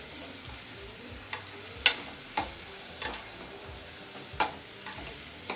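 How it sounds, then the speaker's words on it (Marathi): Onion frying in a pan for chicken keema, a soft continuous sizzle with a spoon clacking against the pan at irregular intervals, several sharp distinct knocks standing out close by. "जो कांदा आहे ना तो आपल्याला एकदम खूप चांगला भाजून घ्यायचा आहे"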